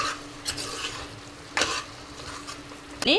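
Tender mutton pieces are stirred through hot oil in a pan for a mutton and cucumber curry. A steady sizzle runs throughout, broken by three sharp scraping strokes of the spoon, with the last one loudest. No one speaks.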